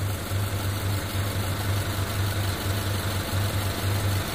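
A car engine idles steadily, its cylinders firing in a continuous low, pulsing hum with an even rhythm, close and fairly loud, with no voices.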